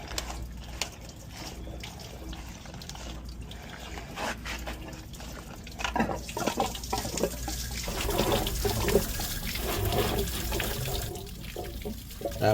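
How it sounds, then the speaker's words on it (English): Water draining out of a pool filter tank during a multiport valve replacement, a steady close splashing trickle and gurgle that grows fuller and louder midway, continuous throughout. "let our water drain out of the tank"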